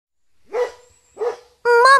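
A dog barks twice in short sharp yaps, then lets out a longer, higher whining bark, all close and fairly loud with quiet gaps between.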